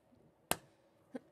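Two sharp, separate hand claps, a strong one followed about half a second later by a softer one, each short and dry against near silence, meant as a quick golf clap.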